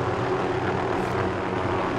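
A helicopter engine in Call of Duty: Modern Warfare gives a dense, steady broadband roar that is loud and continuous with no break, and no one speaks over it.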